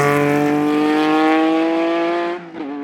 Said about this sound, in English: Their Stratos is purring and off they go, to the sound of the Ferrari V6 engine.